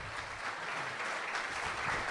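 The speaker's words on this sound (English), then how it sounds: "Big round of applause." Crowd applause at a rock show, a dense, steady wash of clapping heard at a distance, continuous and fairly faint throughout.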